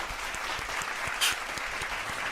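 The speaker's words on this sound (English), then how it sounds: "everyone, please give a round of applause." Steady applause from an audience, a dense even patter of many hands clapping throughout.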